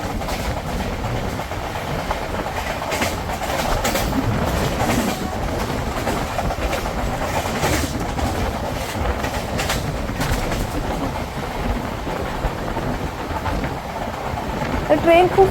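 A fast monsoon train between Ratnagiri and Thivim rushes through stations without stopping, a steady clickety-clack of wheels over rail joints under a continuous rumble, heard from inside the coach.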